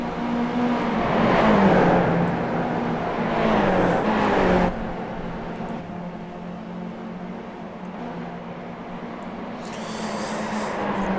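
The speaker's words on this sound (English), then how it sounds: "If you're wondering why you can hear multiple cars out there but you can't actually see the other cars" Several racing cars in the iRacing video game lap the Mosport track in an Australian Skip Barber race. Engine drone rises and falls as a car sweeps past, with a sharp cut midway and a steady whir of other cars continuing beneath.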